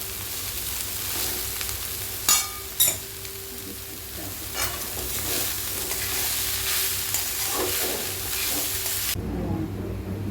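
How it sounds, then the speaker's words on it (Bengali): Cabbage and soybean filling for veg momos stir-fried in a pan, a steady close sizzle with scraping stirs and a couple of sharp utensil knocks, cutting off near the end. "এরপরে বাঁধাকপি আর সয়াবিনটা ঢেলে দিলাম।"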